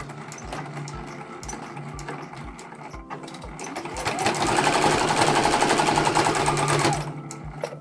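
A domestic sewing machine stitches the seams of a selvage-edge zipper pouch, first in short bursts with pauses, then in one longer fast run. The motor whirs loudly and the needle hammers rapidly, close by with no talking.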